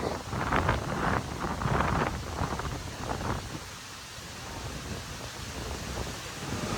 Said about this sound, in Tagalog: Lalo po ngayon na malakas yung hangin.